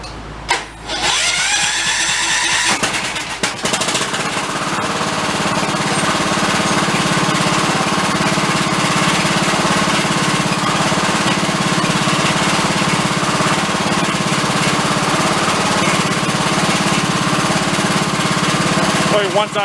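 A salvaged free riding lawn mower engine cranks briefly with a few rough sputters, then catches and runs with a loud, steady, rumbling drone close by.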